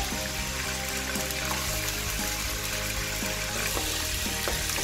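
Loud, steady sizzling as water hits a hot oiled wok, a dense hissing roar with bubbling throughout and no voices.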